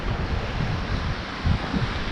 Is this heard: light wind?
yes